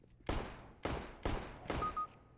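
Four sharp gunshots ring out in an online shooter video game, evenly spaced, each loud and close with a short decaying tail.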